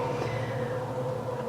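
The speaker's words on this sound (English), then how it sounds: "That's the train. I'm going to let the train pass." A passing train rumbles steadily and fairly loud, with a sustained low drone and a high tonal whine that hold through the whole stretch with no talk.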